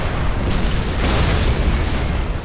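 Missile warheads detonate in C&C Generals as a dense, loud roar of overlapping blasts and deep rumble, continuous and close throughout.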